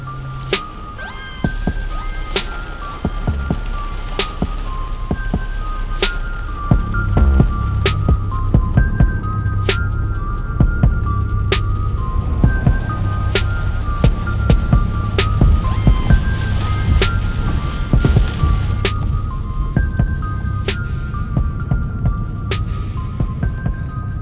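Three Rockford Fosgate P3 subwoofers in a car with seams sealed by hockey tape and caulking pound out loud, sustained bass beneath a busy music track, with steady thumping low end throughout and no talking.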